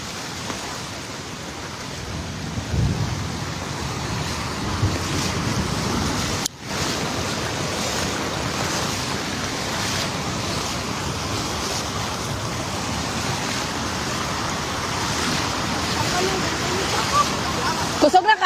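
Flood water rushing through Barangay Bantac, Magpet, Cotabato, as a loud, steady broadband roar that continues for the whole stretch, with one brief dip partway through.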